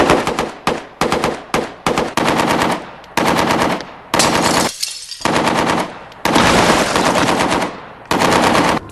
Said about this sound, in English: the AK-47 is the most popular assault rifle in the world